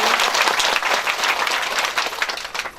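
Loud, dense applause from a large audience at a Bhagavat Katha religious discourse, a steady wash of many hands clapping together for nearly three seconds with no voices over it.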